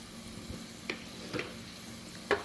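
Chili powder fries in a pan for a fish curry, a soft steady sizzle broken by three or four faint scraping taps from stirring, with no talk.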